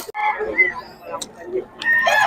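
A Sweater cross gamefowl rooster at a rooster farm crows and clucks loudly at close range in short, ragged bursts, with other noise from the farm around it.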